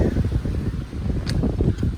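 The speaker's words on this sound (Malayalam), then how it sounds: "കൊടുങ്കാറ്റിൻ്റെ സൗണ്ടൊക്കെ പോലുള്ള കാറ്റാണ് ഇവിടെ അടിക്കുന്നത്" Strong wind buffeting the microphone on a hilltop at Maruthwa Malai, in low, uneven gusts, a constant rumbling roar with a couple of faint high ticks.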